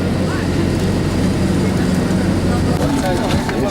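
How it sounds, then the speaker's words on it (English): An airplane engine drones steadily as a loud, continuous low roar filling the whole stretch, heard from close up with no break. "Here's the plane."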